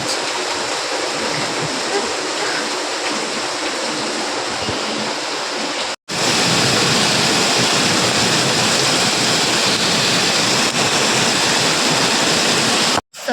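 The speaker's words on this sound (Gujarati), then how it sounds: "ને તો જો ધોધમાર વરસાદ છે" Torrential rain pours down in Surat, a loud, unbroken roar of heavy water close by that carries on steadily through the whole stretch, cut once by a momentary break, with no voices heard.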